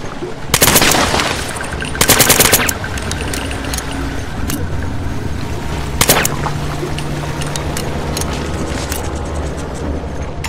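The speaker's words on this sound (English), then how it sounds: "Watch what happens when you shoot it" Gunfire in the video game Killzone 3 as a plant is shot, with several loud sharp bursts of rapid shots over a steady rumbling game background, and no talking.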